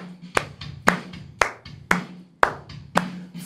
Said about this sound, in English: let's see if we can clap to music when its heartbeat is going a little faster